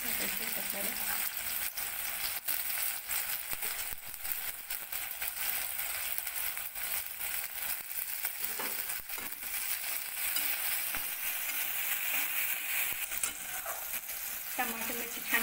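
Tomatoes and green chili frying with browned onions for a raw-milk kharvas bhurji, stirred steadily in the pan, giving a continuous close sizzle with scraping spatula strokes throughout and no talking.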